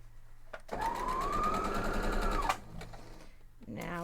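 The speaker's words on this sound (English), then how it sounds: "So you just sew down through it the way you pinned it, obviously." Sewing machine stitching through a pinned strawberry patch quilt block, a close, rapid mechanical whir lasting about two seconds that rises slightly in pitch before stopping, with faint room noise and a brief second start at the end.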